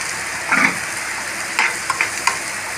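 Sliced onions fry in coconut oil in a pan, the same oil used for frying eggs in a pepper egg roast, giving a steady close sizzle with a few short stirring scrapes.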